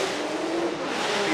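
Ijuka Racing Toyota 86 drift car revving hard at Formula Drift Long Beach, a loud continuous engine roar with a rising, wavering pitch.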